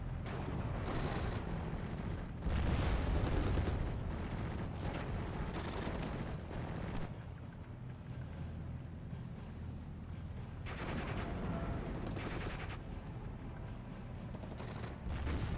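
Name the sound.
machine gun and artillery fire in the video game Steel Division 44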